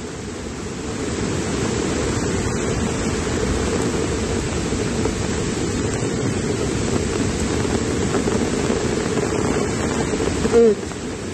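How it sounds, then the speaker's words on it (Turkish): Heavy rain and rushing floodwater at a flooded riverside facility at Tunca Dere Ağzı make a loud, dense, continuous roar with a brief thump near the end. "Aşırı yağış yine devam ediyor."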